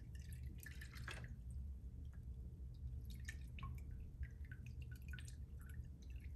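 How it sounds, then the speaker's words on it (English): Cold sterilant solution drips from a lifted tray of plastic items, scattered small clear drips and trickles at irregular intervals over a quiet low background hum, close and faint. "we're going to lift this out and continue to hold it so it'll drain"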